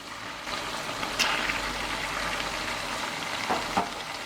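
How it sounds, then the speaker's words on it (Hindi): Chicken frying in a pan gives off a constant close sizzle with a few brief louder spits and stirring scrapes, and no talk over it. "चिकन को 5 से 8 मिनट तक फ्राई कर लेंगे।"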